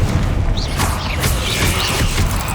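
Confringo spells cast in Hogwarts Legacy, giving a dense, loud burst of crackling booms and swooshing magical whooshes that tumble over each other for a few seconds.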